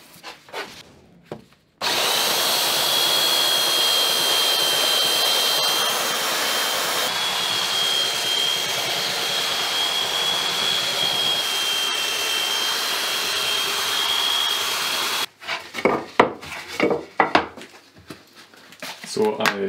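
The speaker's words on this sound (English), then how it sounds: "So I sanded the back side of the exposed piece only slightly" Steady power sanding of a painted live edge wood piece, a continuous broadband whir with a faint high whine running for about thirteen seconds, preceded and followed by short handling knocks and scrapes; no talking.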